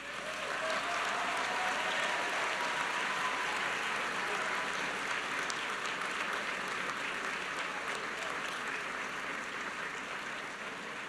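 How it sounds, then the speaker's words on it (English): A large commencement crowd applauds the graduates' families, a dense, continuous roar of clapping that holds steady and strong for over ten seconds. "I invite you now to look in their direction and applaud them for their support"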